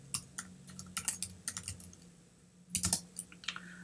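Close, quiet typing on a computer keyboard clatters in irregular bursts of key presses, pausing briefly midway before another quick flurry of keystrokes.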